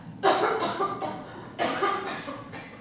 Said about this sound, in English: Your cough seems to be a little worse.